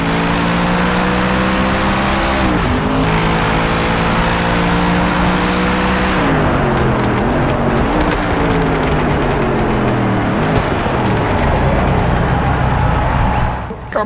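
A Hennessey Venom F5 in Project CARS 3 at Yas Marina F1 Circuit roars at full throttle, its engine pitch climbing through gears with sharp drops at each upshift, loud and continuous, with faint talk underneath.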